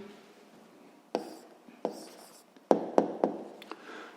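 A pen writes out an answer to a sixth-grade math exercise by hand, faint scratchy strokes punctuated by several sharp taps on the paper, close and quiet.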